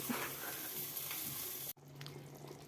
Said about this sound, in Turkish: Çok güzel cızırdadık.